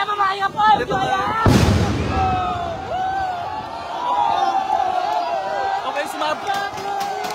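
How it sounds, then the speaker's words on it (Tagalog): A sudden loud blast from a tire bursting on a burning container truck during a protest, followed by rumbling background noise and people talking. "pagsabog ho ng gulong yun"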